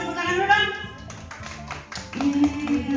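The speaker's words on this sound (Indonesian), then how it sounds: "Buat tepuk tangan dulu dong." Children at an in-person kids' church service clap their hands in a short burst of scattered, uneven claps, mixed with voices and background sound.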